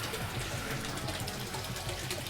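A small pump circulates water in a koi pond in a UK garden, giving a steady, even trickling gush that runs unbroken throughout without speech.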